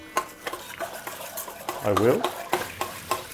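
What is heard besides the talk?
stirring brioche dough with a spoon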